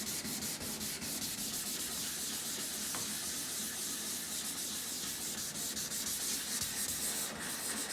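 Someone hand-sands boat gelcoat on an RS Aero dinghy deck with 800 grit sandpaper. The close, continuous rasping rubs back and forth in a fast, even rhythm.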